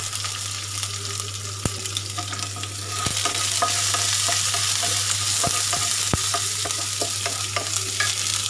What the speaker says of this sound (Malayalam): നല്ലപോലെ ഒന്ന് വാട്ടി മിക്സ് ചെയ്ത് എടുക്കാം.